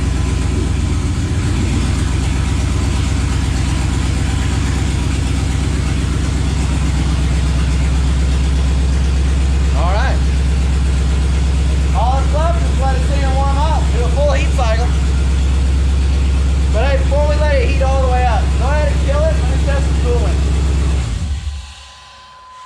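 A Chevrolet C/K 1500 Silverado pickup idles loudly and close by, its deep steady rumble running a little louder than normal, while people talk over it before the engine shuts off near the end.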